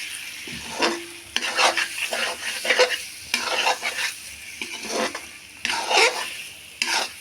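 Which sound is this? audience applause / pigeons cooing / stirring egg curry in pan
stirring egg curry in pan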